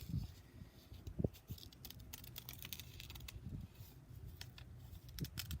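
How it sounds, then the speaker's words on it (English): Scissors cut paper in quiet, close snips and crisp clicks, spaced irregularly with soft rustling of paper between them and no talking. "I'm going to take my scissors and I'm going to make some bumps like midway through."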